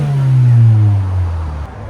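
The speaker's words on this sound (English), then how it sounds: "2024 Hyundai Sonata N-Line. Go ahead, this is what it sounds like before." A 2024 Hyundai Sonata N-Line with a 2.5L engine and its muffler deleted revs once close by, a loud deep exhaust bark that swells and then falls away over about two seconds.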